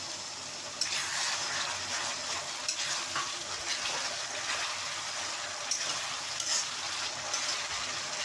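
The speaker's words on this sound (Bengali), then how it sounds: "এরপর আমরা আদা রসুনের পেস্টটাকে দিয়ে দিচ্ছি।" Ginger garlic paste sizzles and fries in a pan for a Bengali chela fish curry, a steady bright hiss with occasional stirring scrapes throughout, with no talking.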